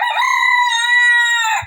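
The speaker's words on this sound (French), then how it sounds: "Le coq n'arrête pas de chanter." A rooster crows one long, loud, close cock-a-doodle-doo, a bright harmonic call held steadily and trailing off at the end, with nothing else audible.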